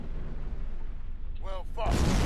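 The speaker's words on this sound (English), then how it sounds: "Launching the bomb." Bomb launch and explosion in the space combat game Star Trek Online, with a short rising warble followed by a loud, broad blast that swells up and holds to the end.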